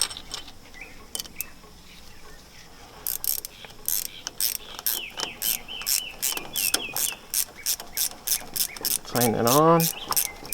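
A ratchet wrench tightens brake hardware on a 2008 Ford F250 during a brake and rotor job, producing a rapid series of close, sharp clicking bursts in a steady rhythm, with a brief whirring squeal near the end.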